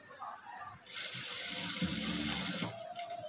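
A sewing machine runs in one steady burst for about two seconds, stitching fabric to lock a pocket in place, with a whirring mechanical hum between quieter moments.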